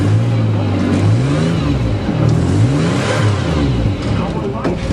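A Nissan Stanza engine revs repeatedly just after a cold start, its pitch rising and falling in several close, loud surges while someone talks over it.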